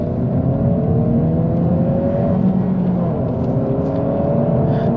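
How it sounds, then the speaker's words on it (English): A 2022 Honda Civic Si with a six-speed manual gearbox accelerates, its engine note rising steadily in pitch as it revs. The engine drones loud and continuous from inside the cabin throughout, with no talking. "Let me give a little bit of gas here."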